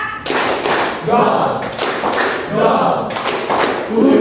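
A class in an Indonesian history lesson claps in counted rhythm patterns on a teacher's cue, with a few sharp group claps standing out from voices and room noise between them.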